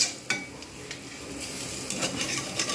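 Bottle gourd kofta balls frying in hot oil, a steady broadband sizzle running throughout with occasional clinks of a utensil turning them in the pan.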